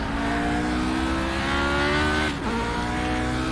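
Race car engine in the iRacing sim, a Formula Ford style single-seater, droning loudly at steady high revs, then a sharp throttle blip on a downshift near the end before the engine note settles back, with no talk.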